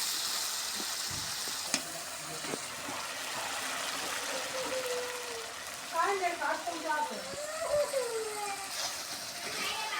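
Ground masala paste and salt sizzle and fry in a pan for a fish curry with taro and pointed gourd, a steady soft hiss with faint stirring scrapes and a few brief clatters, under quiet talk.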